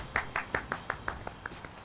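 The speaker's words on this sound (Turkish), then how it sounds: "Bu alkış ne için?" Hands clap in a steady rhythm, about ten distinct claps at close range that fade slightly in loudness, with no voices heard.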